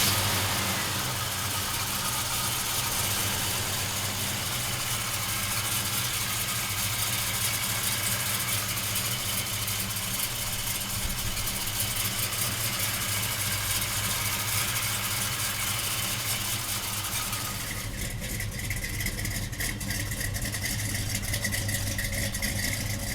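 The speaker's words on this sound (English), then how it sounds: "We're gonna fire this 502 RamJet up for you right now." A 502 RamJet V8 in a 1970 Chevrolet Chevelle idles with a loud, steady, rumbling lope throughout, close by, with a slight shift in tone near the end and no talking.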